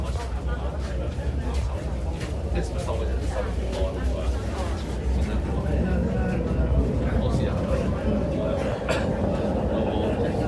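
Steady, loud interior rumble of an MTR C-Train (C418) running on the Tuen Ma line between Yuen Long and Siu Hong, with continuous track and motor noise and a voice speaking faintly over it.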